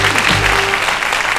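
Studio audience claps on the Turkish TV quiz show Büyük Risk, a short loud wash of applause with a low hum from the studio beneath it.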